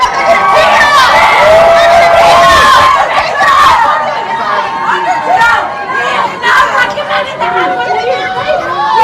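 A protest crowd outside a building yelling loudly, many overlapping shouting voices and chatter swelling and dipping close by, with raised individual cries cutting through the din.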